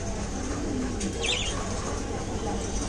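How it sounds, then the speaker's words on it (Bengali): White King pigeons at a loft give a brief flurry of flapping wings midway, with faint cooing and bird sounds against a low background murmur. "এখানে একটা কিং কিং কবুতর, সাদা কিং এর মাদি দেখা যাচ্ছে"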